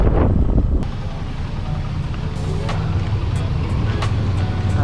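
Strong seaside wind at a beach in Nasugbu, Batangas buffets the microphone in a loud, continuous roar, with a low rumble and occasional faint high clicks underneath.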